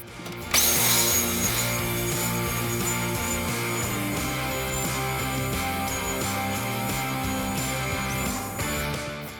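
Belt sander running continuously on wood, a steady loud motor drone with grinding abrasive noise throughout, starting abruptly after a brief quiet moment and holding at an even level.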